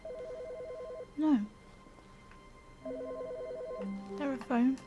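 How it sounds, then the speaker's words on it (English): Telephone ringing in the video game The Stanley Parable, two short bursts of a trilling electronic ring separated by a pause, fairly quiet, with someone speaking briefly between and after them. "Where's the phone going off?"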